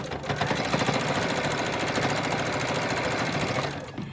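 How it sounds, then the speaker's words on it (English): A sewing machine stitches the hem of a fabric mask, sewing a rubber band ponytail holder in place, running steadily and continuously with a dense rapid needle rhythm for about three and a half seconds before stopping. "you're just going to stitch that in place"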